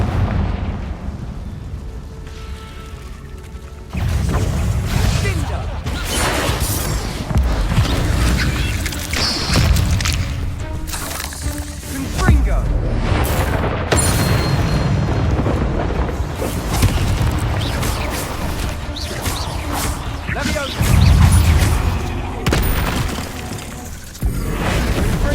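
Explosion spells in Hogwarts Legacy blasting in a dungeon battle, a run of deep booms and crackling bursts with shattering debris, loud and repeated over continuous combat noise and no talking.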